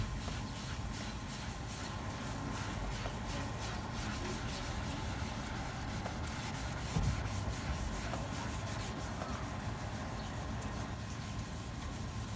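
Toothpaste is rubbed steadily by hand onto a foggy car headlight lens, giving a continuous close-up scrubbing and rubbing sound with no talk.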